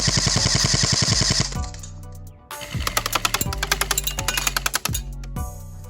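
An H&K MP5 airsoft gun fires full-auto bursts at a target about 50 feet away: rapid, loud, evenly spaced mechanical clatters in several short runs separated by brief gaps.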